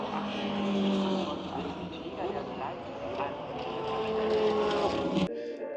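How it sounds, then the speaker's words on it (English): A Mercedes V10 race car screams past at the Nürburgring during the 24 Hours, a loud high-revving engine wail rising and falling, with people talking over it before it cuts off sharply. "I think it's a V10 because hear this thing scream"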